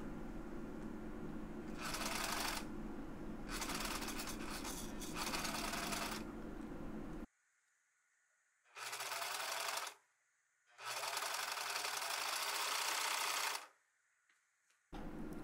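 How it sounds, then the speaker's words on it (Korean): An overlock serger runs in several long bursts, trimming and finishing the cut fabric edges of a repurposed dress being made into an apron, with short pauses between runs and no talk. "자른 단면들을 모두 오버록 처리해줍니다."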